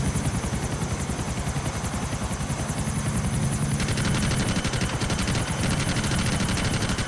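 Steady, loud thumping of helicopter rotor blades throughout, with a continuous engine drone and no speech, in GTA IV online.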